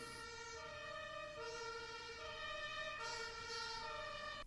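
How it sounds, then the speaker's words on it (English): Ambulance siren wailing steadily in a rising and falling pattern, loud and close throughout with no talking. "Ambulance."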